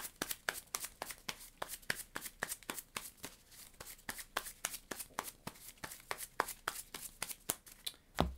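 Playing cards for a deckbuilding board game being shuffled by hand, a quick series of crisp riffling bursts repeating at a steady rhythm, close and fairly quiet with no talk.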